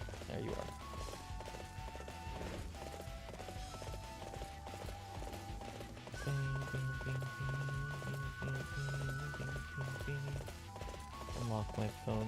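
Horse hooves galloping in the Dynasty Warriors 8 Empires video game, a steady clip-clop rhythm running under game music and effects at moderate loudness throughout.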